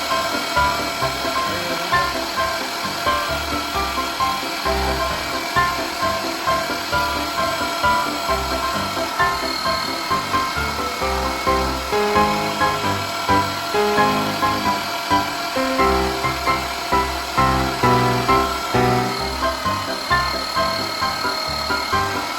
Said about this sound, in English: let's grind some burger